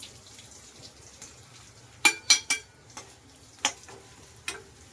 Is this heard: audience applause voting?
no